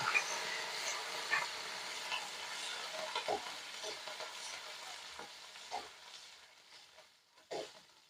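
Chopped green chili, garlic and ginger fry and sizzle in hot oil in a pan, with a steady crackle and a few louder stirring scrapes, all close by and no talking.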